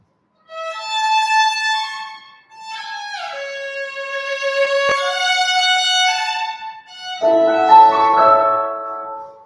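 Bright, sustained string melody from a tango orchestra glides smoothly through high notes, then shifts to a fuller, more pulsing rhythmic passage near the end, loud and clear.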